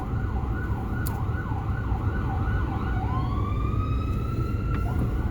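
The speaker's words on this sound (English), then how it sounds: "Alright, let the ambulance through." An ambulance siren wails through a crowded street, its rapid yelp shifting into a rising wail, loud and continuous over a dense, noisy crowd background.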